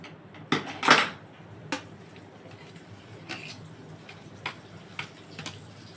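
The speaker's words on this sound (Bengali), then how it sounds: "আচ্ছা, কড়াটা বসিয়ে দিলাম আবার আমি" A metal kadai clanks down onto a stove in a home kitchen while butter masala paneer is being cooked, giving one loud clatter near the start and then a few light taps and ticks.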